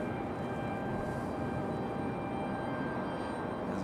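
A United airliner takes off from Raleigh Durham airport, its jet engines producing a steady, broad roar heard from a distance with a faint high whine running through it.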